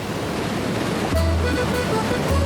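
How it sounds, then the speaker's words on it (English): Torc Waterfall in Ireland pours with a loud, steady broadband rush of falling water, close by and continuous, with some low wind buffeting on the microphone and no voices. "We finally reached Torc Waterfall."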